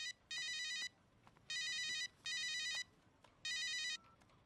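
A phone rings in four electronic bursts of about half a second each, evenly spaced with short pauses between, clear and moderately loud over a quiet room.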